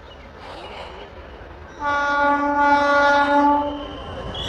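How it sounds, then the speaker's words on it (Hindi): A train on the snowy Baramulla–Srinagar line in Kashmir winter sounds a long, loud horn blast over a rumbling background, then the horn fades as the train carries on. "आगे ट्रेन।"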